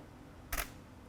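A single camera shutter snaps once, short and crisp, in a quiet indoor photography setup with no flash firing; otherwise near silence.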